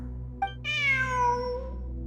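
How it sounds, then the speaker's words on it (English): A cat in the video game Genshin Impact gives one clear, close meow with a drawn-out falling tone, preceded by a short soft chirp, over a steady low game hum. "Look! A cat!"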